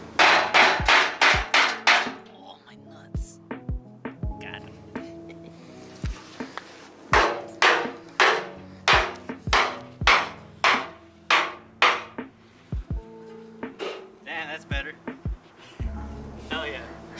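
Loud metal hammer blows on a Nissan 240SX's fenders, beating out dents in uneven bursts, rapid strings of strikes separated by short pauses, ringing sharply up close.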